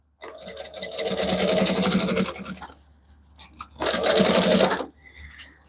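A sewing machine stitches fabric with a joining stitch in two close bursts of rapid whirring, each lasting a second or more, separated by a short pause with faint handling noises.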